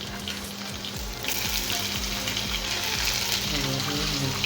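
Garlic and green chilies frying in hot oil for a pumpkin curry, a loud steady sizzle that surges fuller partway through as the pan catches, with a low rhythmic clatter beneath and no voices.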